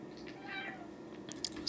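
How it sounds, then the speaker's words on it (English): A house cat meows faintly indoors, a soft drawn-out call followed by a couple of short chirps, low behind quiet room tone. "likes to meow at me"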